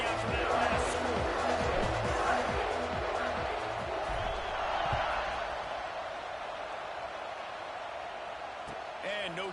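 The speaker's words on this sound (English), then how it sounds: "this crowd is buzzing after that last score" Football stadium crowd buzzing after a score in a South Carolina versus Tennessee game, a steady distant roar of many voices under close play-by-play commentary, gradually easing.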